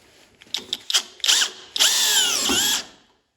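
A Parkside 12V cordless drill on a 4Ah battery drives self-drilling screws: a few short whirring bursts, then one longer high-pitched run that bogs and slows before stopping, close and alone.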